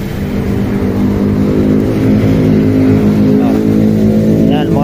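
A Honda Click motorcycle engine idles steadily at close range after its check-engine fault was cleared, a continuous low mechanical hum with a slight rise in revs toward the end.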